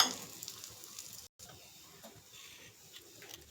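A wheat flour sweet frying gently in ghee in a pan on a low flame gives a soft, steady sizzle with faint crackles, quiet and continuous, broken by one brief cut to silence.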